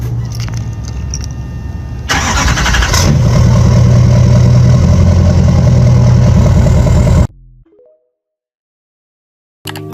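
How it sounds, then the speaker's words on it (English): A diesel truck engine runs loud and steady for about five seconds after a quieter rumbling start, then cuts off abruptly, leaving near silence. "I don't think you've actually ever heard what a real diesel truck sounds like."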